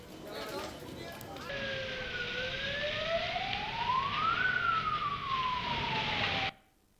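Wailing emergency siren from fire brigade and police vehicles responding to a shop fire in Uttarakhand, a steady rising and falling tone that sweeps for several seconds over street noise before cutting off abruptly.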